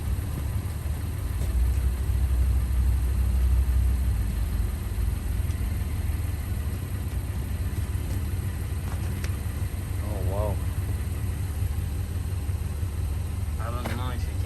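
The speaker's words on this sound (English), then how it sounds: "I have the car running. I'm gonna go ahead and put it in reverse" A Honda Passport's engine idles steadily in reverse, a low continuous rumble that holds level throughout, with a few faint brief chirps near the end.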